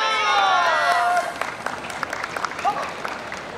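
Audience at a yosakoi dance festival clapping and cheering loudly for about a second, then settling into scattered claps and murmurs.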